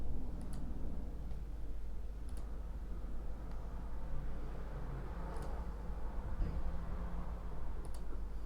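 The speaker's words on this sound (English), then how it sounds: "double click, click yes, and just click next to everything" A computer mouse clicks a handful of times, each a short, sharp, quiet tick spaced irregularly over a steady low hum of background noise, with no talking.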